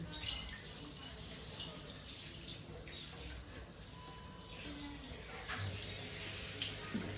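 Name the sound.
water running while bathing a child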